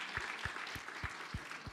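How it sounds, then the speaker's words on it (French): Audience applause at a conference about Morocco, a brief, fairly faint patter of clapping with a few distinct hand claps standing out in an even rhythm. "Ça s'applaudit."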